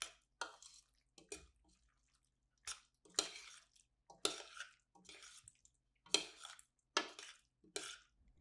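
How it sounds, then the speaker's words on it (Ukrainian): Rigatoni pasta being stirred with sauce in a pan, a series of separate wet clinks and scrapes of utensil on cookware at an irregular pace, with near silence between strokes. "Додайте соус і перемішайте."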